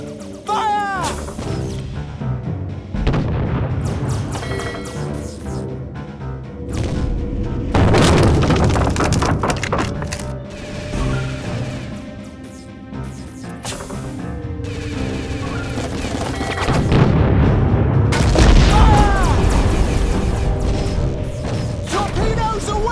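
Torpedo and cannon fire explode in a Treasure Planet space battle game, a dense run of booming blasts and crashes over about twenty seconds, rising and falling in loudness under a continuous score and effects.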